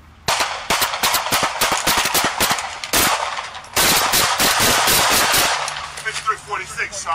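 Gunshots are fired at police officers at a home, captured on a bodycam: dense, rapid bursts of loud, sharp shots in quick succession, with brief gaps and some voices mixed in near the end.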